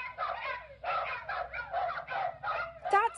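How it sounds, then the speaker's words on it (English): Dog barking heard over a police radio in Clearfield and Lawrence Township, a run of rapid, harsh, band-limited yelps and barks with radio crackle, ending in a squeal of interference. "That sound is dog barking coming over the police radio in Clearfield and Lawrence Township."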